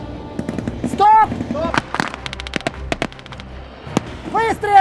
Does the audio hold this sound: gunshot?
yes